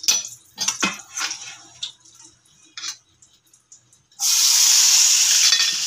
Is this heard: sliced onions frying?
yes